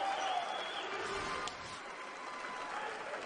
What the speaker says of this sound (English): Gets an ovation here from